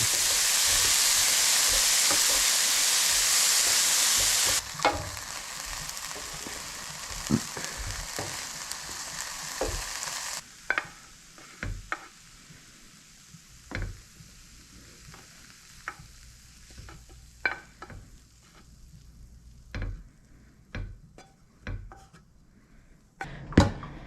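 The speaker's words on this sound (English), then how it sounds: "We're just going to saute these up really quickly." Green bell pepper and onion sauteing in a pan, a loud steady sizzle at first that drops sharply, then gives way to sporadic spatula scrapes and clinks against the pan under a quieter sizzle.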